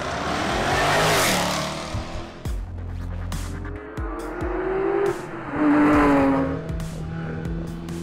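Rally cars on a long Tour de Corse special stage in Corsica, engines revving hard and roaring past with gear changes and tyre squeal, loud and close, then fading.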